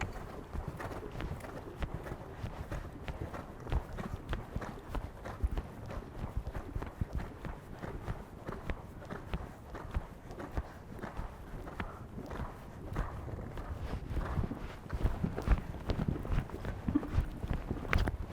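Horse hooves moving over the footing of a riding arena during a jumping lesson with cross poles, giving a steady, rhythmic patter of footfalls. The sound is faint and distant and continues throughout with no pauses.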